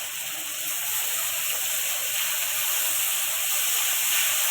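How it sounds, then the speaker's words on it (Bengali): Potatoes, pointed gourd and spices fry in hot oil in a pan, giving a steady, soft sizzling hiss that holds evenly throughout without interruption. "আলু পটলটা দিয়ে আমি কষিয়ে নেব। তেল আমার বেরিয়ে এসছে মশলা।"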